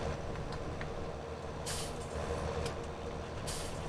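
Truck air brakes hiss in Farming Simulator 19 during grass silage work, two sharp bursts of released air over a steady low engine drone, with no talking.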